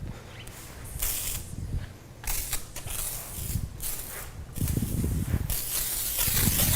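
Liquid sprayed in repeated short bursts to lightly wet a car's surface during winter detailing, each hissing spray loud and close with brief pauses between.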